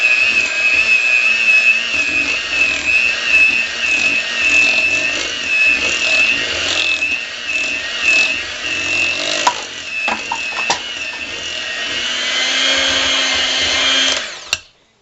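An electric hand mixer whirs steadily as it beats green-tinted buttercream icing for a dinosaur cake, a loud continuous motor drone with a few clicks and bumps near the end before it cuts off abruptly.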